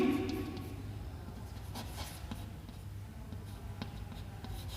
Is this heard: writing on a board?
yes